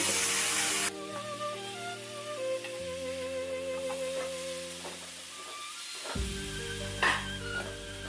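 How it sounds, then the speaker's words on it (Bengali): Boiled banana stem is sautéed in a pan, giving a steady close sizzle with stirring scrapes and a brief louder hiss near the end, under soft background music. "এবার আমি সেদ্ধ করে রাখা থোরটা দিয়ে আবারও একটু কষিয়ে নেব"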